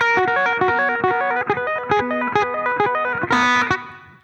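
Electric guitar played quickly through a distorted, effects-laden tone, a rapid repeating run of bright picked notes with a steady driving rhythm and a louder accented flourish near the end.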